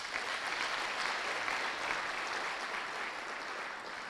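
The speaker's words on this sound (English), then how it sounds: "If you can just clap for yourselves." Audience applause in a Senate chamber, a steady dense wash of many hands clapping at moderate distance, continuous for the whole stretch with no voices over it.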